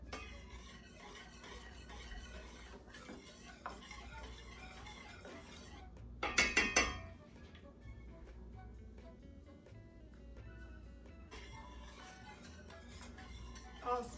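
Steady scraping and stirring of thickening majarete pudding in a pot, soft and close, with a short burst of louder clinks midway and no talk over it.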